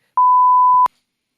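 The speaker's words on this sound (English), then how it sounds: "I couldn't hear you because there was a beep over it" A single censor bleep covers speech: one pure, steady electronic tone that lasts under a second, loud and alone against silence.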